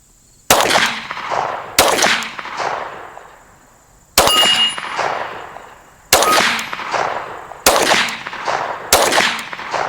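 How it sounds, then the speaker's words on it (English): A CZ-52 pistol fires 7.62x25 rounds at a steel plate downrange, six sharp, loud shots spaced a second or two apart, each followed by a ringing metallic clang and a short decay. "We're going to take a couple shots with the Cz-52. See if it'll ring that plate down there."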